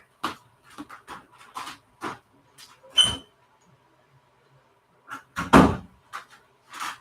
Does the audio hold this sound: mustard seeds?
no